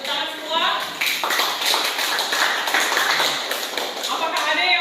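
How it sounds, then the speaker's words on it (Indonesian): Students in a classroom clap together at the end of a group presentation. The clapping is brisk and scattered, and voices are mixed in. "Ya, tepuk tangan semua."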